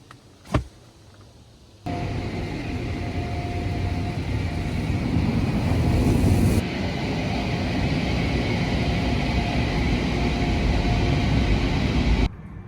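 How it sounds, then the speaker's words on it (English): An automatic car wash runs over a Rivian R1T electric pickup: a steady, loud rushing roar of spraying water and machinery heard from inside the truck, starting with a clunk and building slightly before stopping abruptly. "we'll pull into the car wash"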